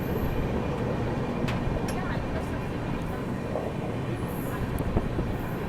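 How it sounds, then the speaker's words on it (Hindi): CR Rajdhani Express train on the Mumbai–Nizamuddin run nearing Jalgaon Junction in fog, heard from on board as a steady loud rumble of wheels and carriages with faint clicks, continuous throughout. "अपनी अभी सीआर राजधानी एक्सप्रेस पहुँच रही है जळगाव जंक्शन रेलवे स्टेशन"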